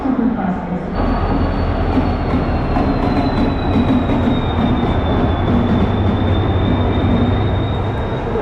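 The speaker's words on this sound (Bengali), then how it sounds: "ট্রেন দিয়ে দিয়েছে 19 নম্বর প্ল্যাটফর্মে।" Tamralipta Express train at Howrah station, a fully LHB-coach train, rumbling loudly and steadily with a long high wheel squeal running throughout, close and continuous.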